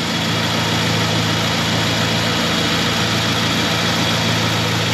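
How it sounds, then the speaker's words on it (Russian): An old Moskvich or Izh car engine with worn engine mounts idles loudly and roughly up close, a low uneven rumble with a faint vibrating rattle running underneath. "Подушки двигателя убиты, мотор трясется."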